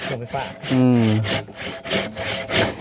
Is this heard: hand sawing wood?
yes